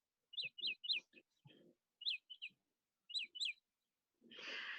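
Birds sing outside an open window, a series of short, bright chirps in quick groups with pauses between, fairly near and clear, followed by a brief rustling noise.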